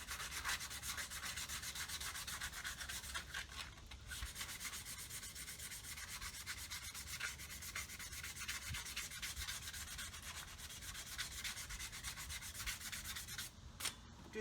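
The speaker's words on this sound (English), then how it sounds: "I'm just gonna smooth out these actual brake pads a little bit" Fine-grit sandpaper rubs over golf cart brake pads in a steady scratchy hiss, close and quiet, continuing without pause and with no talking.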